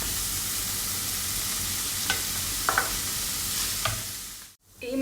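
Cooked chicken filling is stirred with vinegar in a hot pan, giving a continuous sizzle with a few sharp spoon scrapes and taps before it suddenly dips near the end.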